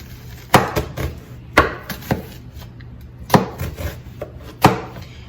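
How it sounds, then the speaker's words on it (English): A kitchen knife slices taco ingredients into little pieces on a cutting board, giving a series of crisp, close chops spaced irregularly over a quiet background. "And then I go down the row in little slices."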